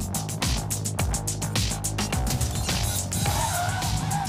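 A 2025 Subaru Forester Sport braking hard during an obstacle avoidance test: loud, continuous road and tyre roar with rhythmic thumps and a rising squeal of tyres toward the end.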